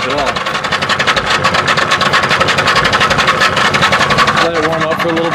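New boat engine idling at about 700 RPM while warming up, a loud, steady, close-up thrum with an even mechanical pulse throughout.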